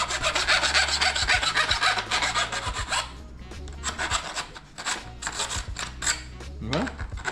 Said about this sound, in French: Ça c'est une lime VAR, ça coûte super cher, mais il faut absolument une lime pour vélo.